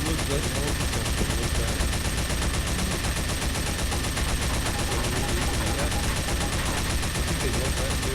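The Brass Beast minigun fires in Team Fortress 2, a dense, relentless rattle of rapid gunfire at constant loudness throughout, close and with no pauses.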